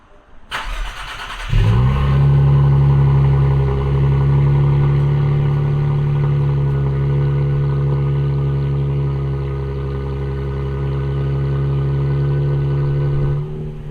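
Car with an axle-back exhaust fires up from cold, a loud burst settling into a steady, raised fast idle that holds for about ten seconds before the revs drop and it goes quiet, close up with no talking.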